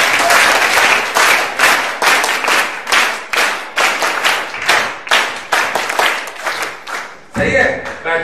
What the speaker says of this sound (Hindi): हिमाचल वालों के लिए करा एक बार जोरदार तालियां बजा दो